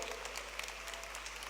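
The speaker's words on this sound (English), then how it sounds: "Come on, stand up and clap." Indoor audience at an education programme session in Thiruvananthapuram applauding steadily, a dense, even wash of clapping that holds loud throughout with no speech over it.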